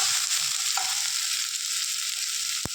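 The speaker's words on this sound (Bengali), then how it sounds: "এবার আমি আলুটা ভেজে তুলে নেবো।" Potato pieces frying in hot oil in a home kitchen: a loud, steady crackling sizzle that holds evenly throughout, with one sharp clink near the end.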